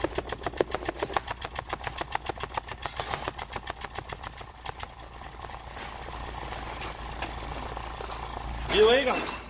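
A Ford Fiesta engine that is consuming coolant idles with a rough, pulsing chug that settles into a steadier hum, then a brief louder burst of noise near the end.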